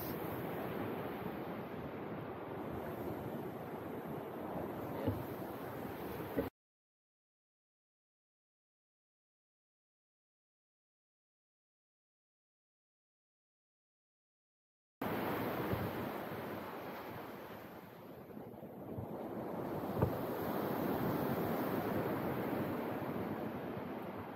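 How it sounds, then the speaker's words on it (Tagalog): Sea waves on the coast near the Bangui Windmills, a steady roar of surf mixed with wind rumble on the microphone, cutting to silence midway before the wash of waves returns and swells. "Ganda pa ng dagat. Kasi yung alon."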